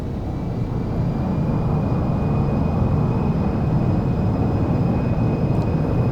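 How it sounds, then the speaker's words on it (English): Airliner engines roar loud and steady under deployed thrust reversers during the landing rollout, a broad continuous rush of noise with a faint high whine above it. "Reversers on."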